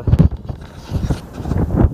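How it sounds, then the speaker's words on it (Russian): Strong stormy wind blows on a lake during May carp fishing, buffeting the microphone in heavy low rumbling gusts with no voices. "От ветра вообще ниоткуда не спрячешься."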